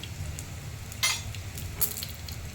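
Mace and other whole spices dry-roasting on a slow flame for bisibelebath powder, a soft steady crackle and rustle with two brief sharper stirring scrapes close by.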